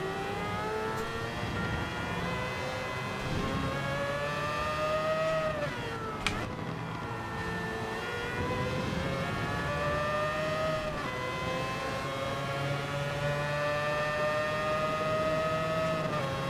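An LMP prototype race car in Gran Turismo 7 at Circuit de la Sarthe roars under sustained high revs, the engine note climbing through gears with brief shift dips, loud and continuous with no voices.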